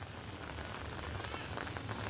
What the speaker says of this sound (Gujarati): તો અત્યારે હાલમાં વરસાદ ચાલુ છે